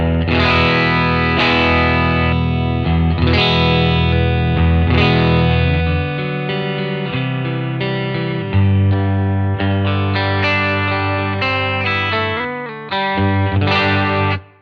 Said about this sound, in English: This is my clean tone through the deluxe reverb.